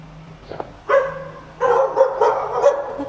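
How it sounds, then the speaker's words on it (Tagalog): A dog barks a few times nearby outside a church in Mankayan, Benguet, a short yip first and then a louder run of barks. "Ba't may aso?"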